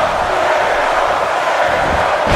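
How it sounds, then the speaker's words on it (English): Loud, steady roar of a wrestling-game arena crowd cheering throughout, dense and continuous with no clear breaks. "the crowd's on the edge of their seats"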